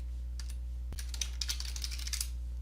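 Keys on a computer keyboard being pressed, a run of soft, quick clicks after one sharp tap, close and alone over a steady low hum.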